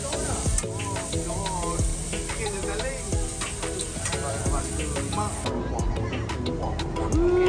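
Lamb chops in black pepper sauce sizzle and fry on a busy Penang street food cart, a loud continuous hiss with clattering stirring and scraping throughout, with voices in the background.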